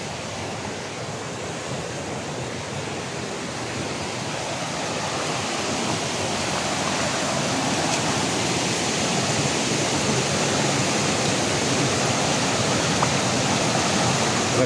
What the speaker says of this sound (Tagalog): Ragasa guys ang tubig oh.